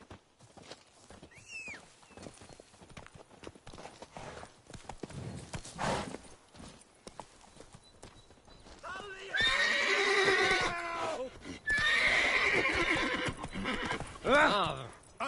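Roach, Geralt's horse in The Witcher 3, gallops with rapid hoofbeats, then lets out loud, drawn-out neighs and whinnies close by in the second half.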